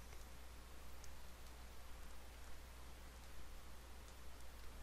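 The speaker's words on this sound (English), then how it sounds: "Yeah, it's raining." Rain falls steadily in the video game Persona 4, a soft, even wash of hiss with no distinct drops or voices.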